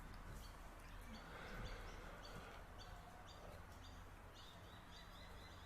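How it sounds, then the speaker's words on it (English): Morning birdsong in Melbourne, Australia: repeated bright chirps and tweets ring out over a soft, steady outdoor hiss, fairly faint and with no talking. "Listen to those birds."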